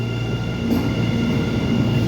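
An Orange Line subway train running on the track, a steady close rumble of wheels and car noise with faint squealing tones layered over it, no voices.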